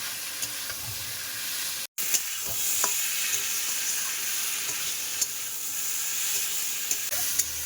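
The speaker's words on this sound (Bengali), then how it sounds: "এইবারে ভেজে রাখা আলু আর কচু দিয়ে দেবো একসাথে কষাই করবো" Pre-fried potatoes and taro being stir-fried together with bay leaves in a village-style kitchen pan, giving a constant close sizzle with scraping stirs and one brief cut near the start.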